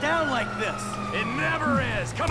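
Police siren in the GTA 5 video game wails in rising and falling sweeps behind steady game engine noise, with someone talking over it throughout.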